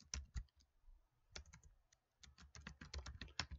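Someone types on a computer keyboard while filling in a cryptogram puzzle. Quiet, close key clicks come in two uneven flurries with a brief pause between them.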